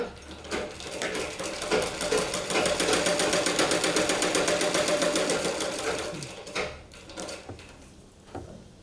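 A sewing machine stitches a blouse piece, with a fast, steady run of close mechanical whirring and clatter lasting several seconds, bracketed by short bursts and handling clicks before and after.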